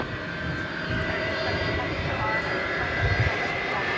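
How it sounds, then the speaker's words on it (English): Airbus A300 wide-body jet approaching at Dallas-Fort Worth airport, a sustained low engine roar that builds slightly near the end, with a voice talking over it. "there's the A300 coming towards us."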